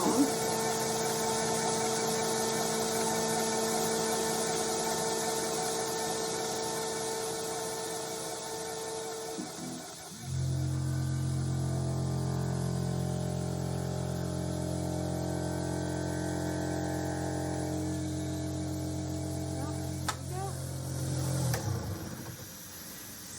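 Lab saw in a research lab running with a steady mechanical hum; about halfway through a louder low droning tone kicks in as the vacuum fails to hold the slide in place, then cuts off near the end.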